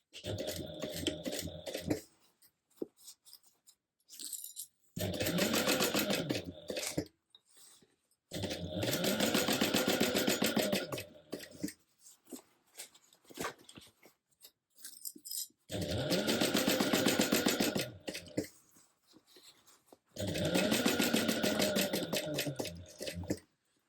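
A domestic sewing machine stitches the bottom seam of a fabric shoulder bag in five bursts of steady whirring, separated by quiet pauses with small handling clicks.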